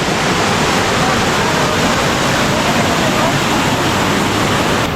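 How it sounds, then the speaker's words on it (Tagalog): Manatlam Falls waterfall roaring as a loud, continuous broadband rush of falling water that stays steady throughout with no other sounds standing out. "Welcome to Manatlam Falls!"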